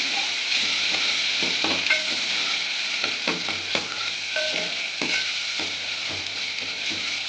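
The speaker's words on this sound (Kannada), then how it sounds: "ಮತ್ತು ಅದನ್ನು ಚೆನ್ನಾಗಿ ಫ್ರೈ ಮಾಡೋಣ." Spinach sambar ingredients fry and sizzle steadily in a pan while a spoon stirs and scrapes in a series of irregular clinks and taps, close and fairly loud, with no talking.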